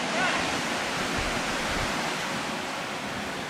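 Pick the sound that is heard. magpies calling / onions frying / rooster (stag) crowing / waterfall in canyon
waterfall in canyon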